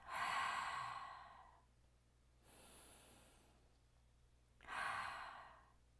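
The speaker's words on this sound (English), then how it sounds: "Inhale through your nose and exhale through your mouth." Slow, deep breaths during a guided meditation, air drawn in through the nose and let out through the mouth, three soft breathy rushes with quiet pauses between them, close and alone.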